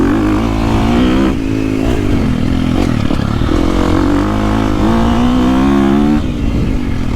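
A 350cc dirt bike engine chugs and pulls under a rider, a close, loud, continuous throaty drone with rising and falling revs and no pauses.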